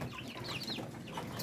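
Young Rhode Island chicks and Muscovy ducklings on a small hobby farm give soft, close peeping chirps in a quick irregular series, with light background noise.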